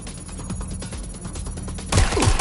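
Gunfire in Watch Dogs Legion, a rapid burst of repeated shots followed by a louder, harsher volley, close and sharp against a noisy game background.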